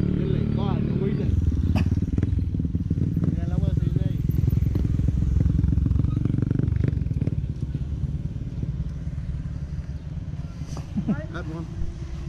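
A CF Moto 400 motorcycle engine runs loud and close, a steady throaty drone that eases slightly toward the end, while people talk over it.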